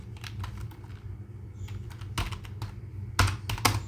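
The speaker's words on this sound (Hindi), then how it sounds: "अब मैं इसको इंटर मारता हूँ और लिख देता हूँ सीधा" Computer keyboard typing while a descriptive writing exam answer is composed, close-up with irregular bursts of key clicks and a few louder thumps like the enter key, over a low steady hum, with no speech.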